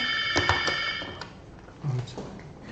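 A telephone rings in a room with a bright repeating electronic tone, a few short bursts near the start, while someone speaks briefly in the background.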